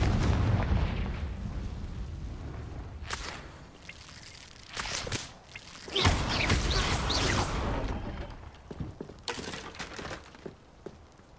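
A Confringo fire spell bursts in Hogwarts Legacy, a heavy rumbling blast fading out, followed by further sharp explosive cracks and crumbling debris sounds at moderate loudness.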